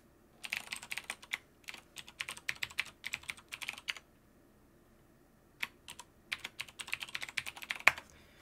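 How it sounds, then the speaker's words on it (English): Typing an email and password on a computer keyboard: quick, close key clicks in uneven bursts, a pause of about a second and a half, then another run of taps ending in a sharper click. "So you type in your email and your password."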